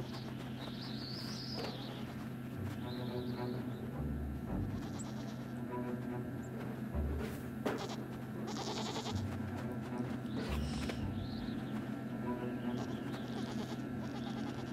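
A goat bleats in the video game Blanc over a steady ambient backdrop. Several short bleats and bird-like cooing calls come and go across the scene at moderate distance, with no talking.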